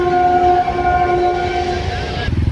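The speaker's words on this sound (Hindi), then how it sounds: "यहाँ पे आपको ट्रेन वाली साउंड हमेशा मिलेगी।" A passenger train on the Gaya–Patna line passes close by near the Mithapur Mahuli flyover, its loud sustained horn blaring over rumbling wheels before the horn cuts off and the rolling clatter continues.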